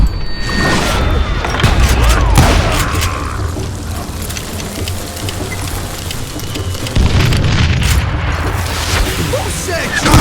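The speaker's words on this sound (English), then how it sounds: "Who said you could throw dynamite?" Dynamite blasts in the Western shooter game Call of Juarez: Gunslinger, with loud booming explosions, crashes and gunfire layered over a busy battle soundscape while voices shout throughout.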